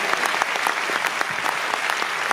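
An audience applauds a film cast in a dense, steady burst of clapping that holds an even level throughout, with no voices standing out above it.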